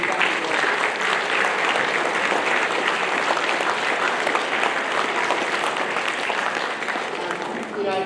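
Sustained, loud applause from an indoor crowd at a junior and youth football club awards night, steady clapping throughout that eases slightly at the very end.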